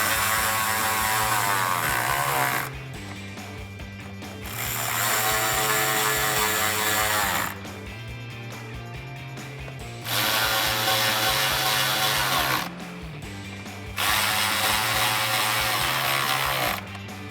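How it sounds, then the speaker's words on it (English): Ratchet wrench with an 8mm socket tightening small screws on a Mustang GT lower valance during fog light installation, clicking in three or four long rhythmic bursts separated by short pauses, close and loud with no talking. "I'm going to take my 8mm socket and then tighten them down"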